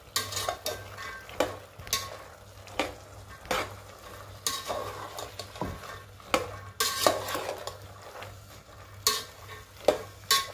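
Beans and chickpeas fry with dried fish in a pan, giving a low sizzle under repeated scraping strokes of a spatula or spoon against the metal, irregular and close.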